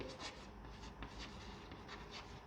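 Marker or chalk writing on a board makes soft, faint rubbing strokes in a quiet classroom during a geography lesson, a few short scratches without talking.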